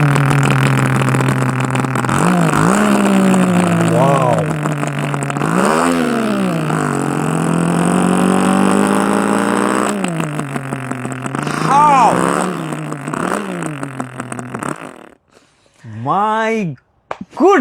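A voice mimics a Suzuki Samurai motorcycle engine, droning and rising in revving swells with pitch sweeps, loud and close, ending in a few short sharp bursts after a brief pause.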